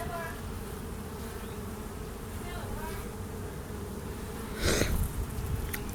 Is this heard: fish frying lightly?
no